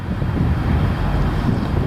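Blustery wind buffeting the microphone in a continuous low rumble while metal detecting outdoors in a historic Florida downtown, close and fairly loud, with no voices heard.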